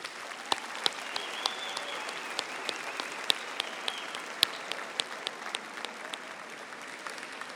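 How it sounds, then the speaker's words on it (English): A large audience claps steadily in sustained applause at a university graduation ceremony, a dense patter of hands with occasional sharper individual claps, no speech. "join me in a round of applause and thank them for their support"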